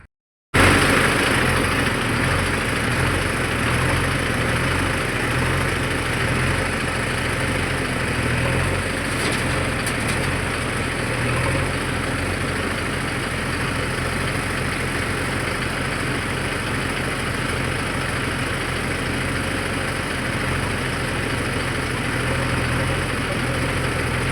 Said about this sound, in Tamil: நம்ம வண்டி கிட்ட ரிவல் சுட்டு கண்டினியூ பண்ணுறேன்.